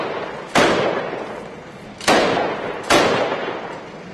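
SAS commandos firing toward vehicles about 150 metres past a barricade during a street operation in Nusaybin: three sharp, loud shots about a second and a half apart, each trailing off in a long echoing decay between buildings.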